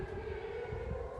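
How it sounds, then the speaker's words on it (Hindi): A steady, droning air-raid siren wail in Israel during an Iranian attack holds through the whole moment, loud and unbroken, with low rumbling noise underneath and no clear speech. "सायरन, सायरन आप सुन सकते हैं।"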